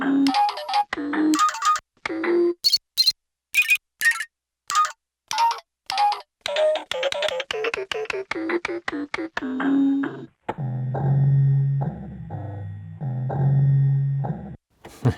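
An original recorded sample played back on a Casio LK-240 sampling keyboard: a rapid string of short, choppy bursts and clicks, then two longer low sustained tones near the end, loud and close with no speech.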